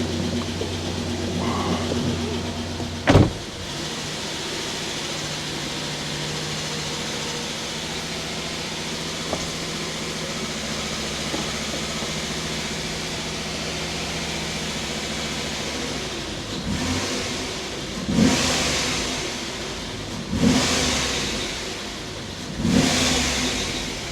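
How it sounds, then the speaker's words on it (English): A freshly rebuilt LS1 V8 car engine idles steadily, then a sharp knock rings out, followed later by several strong throttle revs that rise and fall close by. "Let's give us some throttle here."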